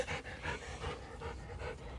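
A dog panting in quick, steady rhythmic breaths, close and moderately loud, with no talking over it. The dog is old and is resting indoors after a morning trip to the vet.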